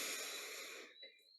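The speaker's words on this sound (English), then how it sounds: "So taking a deep breath in" A slow, deep inhalation taken as one of three cleansing breaths at the start of a guided meditation, a breathy hiss that fades after about a second, followed by soft mouth and breath noises, close and quiet with no talking.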